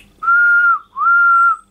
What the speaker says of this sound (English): let's just say, for argument's sake, two pips on the whistle